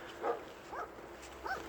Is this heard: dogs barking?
yes